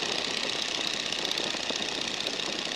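Small airplane engine with the throttle pulled back toward 1850 RPM, a steady droning hum with a buzzy, even texture heard from inside the cockpit, with no talk over it.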